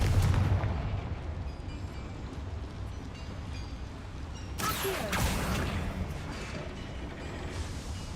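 A Confringo fire spell explodes inside a mine in the video game Hogwarts Legacy, a sudden loud blast about halfway through over a constant low rumbling background.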